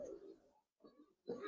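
A pigeon offered for sale gives three short, low coos separated by brief pauses, faint and close.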